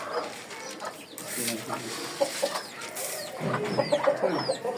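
Free-range native chickens cluck and chirp nearby while feeding, amid scattered scratching and rustling, with a person speaking intermittently over the birds.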